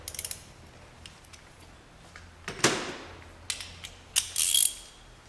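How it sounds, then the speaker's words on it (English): A ratchet loosens the bolts on the fuel filter housing of a VW Golf 2.0 TDI, giving sparse close clicks and pawl rasps, then a sharp ratcheting burst and metallic clatter near the end, with no talking. "So at first I kind of evenly just loosen them all around the fuel filter housing."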